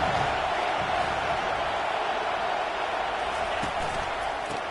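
A college football stadium crowd roars in a steady, broad wash of cheering that swells as the home defense needs help, continuous and loud for the whole stretch with no clear voices standing out.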